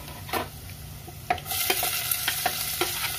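Chopped onions and green chillies hit garlic-flavoured oil in a pan, the sizzle jumping louder as they go in, with repeated stirring scrapes and clacks over the frying hiss.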